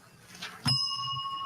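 A desk bell is struck once, giving a sudden bright ring that holds steady for about a second amid a faint background hum.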